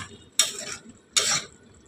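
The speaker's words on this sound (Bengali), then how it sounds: "ঢাকাটা আমি খুলে দিলাম।" Two sharp metallic clatters about a second apart as a cooking pot lid is lifted off over potatoes boiling for a swamp barb fish curry, each followed by a brief rattle, close and clear against a quiet kitchen.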